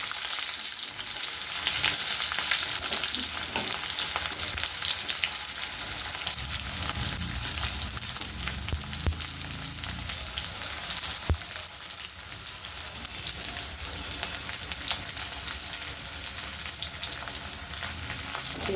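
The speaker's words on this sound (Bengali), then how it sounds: "আমি প্রথমে পেঁয়াজগুলো কড়াইতে দিয়ে দিচ্ছি" Onions frying in oil in a wok (kadai), a continuous close hiss and sizzle with crisp crackles and occasional stirring, steady and without talk throughout.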